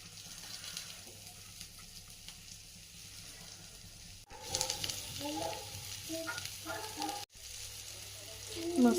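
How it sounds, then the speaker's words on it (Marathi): Surmai fish pieces coated in rava and rice flour fry in a pan with a soft steady sizzle and a few louder bursts of crackling, fairly close and moderately quiet, with no talking. "मस्त आता आपण ह्याला फ्राय होऊ देऊ।"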